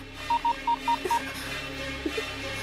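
A rapid run of touch-tone beeps as a phone number is dialed, evenly spaced short tones followed by a couple of faint clicks.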